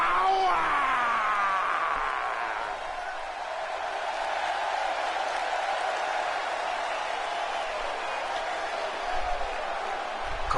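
Crowd applause and cheering from a WWE 2K18 wrestling game fill the arena, a steady roar that swells at first and then settles into a sustained background din without clear talk.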